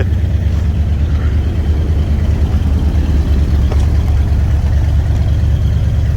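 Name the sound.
1973 Buick Riviera engine running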